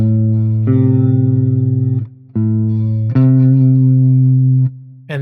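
Distorted electric guitar sounding minor third intervals, three sustained chords separated by brief pauses, loud and close with effects-laden tone.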